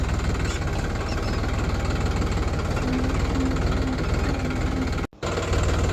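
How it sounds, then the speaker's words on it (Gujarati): A tractor engine runs steadily at a farm field in the morning, a loud, continuous low rumble with a rough knocking chug that holds throughout, briefly cutting out for a moment near the end before resuming. "તો ટ્રેક્ટર વડે ખસેડીશું"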